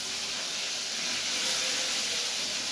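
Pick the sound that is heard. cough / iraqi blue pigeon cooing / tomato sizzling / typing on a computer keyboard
tomato sizzling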